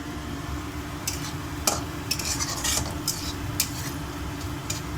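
Egg puttu mixture with salt being stirred in a pan: soft scraping strokes of a spoon against the pan over a faint sizzle, close and fairly quiet, with a few sharper clinks.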